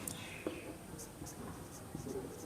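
Pen or marker strokes writing out a math formula during a Class 10 trigonometry lesson, a few short scratches spread across a soft noisy background with faint talk.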